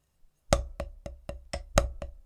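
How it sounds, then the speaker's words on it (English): Snare drum playing a single paradiddle with accents, sharp close strokes in a steady rhythm, with the louder accented hits standing out clearly, heard alone with no talking. "And now let's add the accents."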